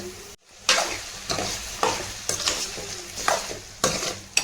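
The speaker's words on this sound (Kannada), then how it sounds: "ಇದು ಮಟನ್ ಇದಕ್ಕೆ ಹಾಕೊಂಡು ಮಿಕ್ಸ್ ಮಾಡ್ಕೊಳತ್ತೀನಿ" Repeated scraping strokes of a spatula stirring boiled mutton in a pan, with a soft sizzle underneath; regular, close, no talking.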